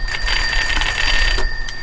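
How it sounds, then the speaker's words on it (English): A Swedish M37 field telephone ringer rings loudly and continuously for over a second, a close, shrill metallic bell trill that stops abruptly. "Fairly loud ring."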